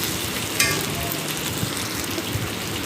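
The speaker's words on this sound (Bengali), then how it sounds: "আদাটা দিয়ে কষতে থাকবো" Ginger sautéing in a hot pan, a dense, steady sizzle and crackle of frying that runs the whole time at close range, with a brief stir or clatter near the start.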